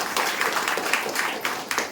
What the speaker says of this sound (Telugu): సార్ గారికి ప్రత్యేకంగా ఒకసారి చప్పట్లతో ధన్యవాదాలు తెలియజేస్తున్నాను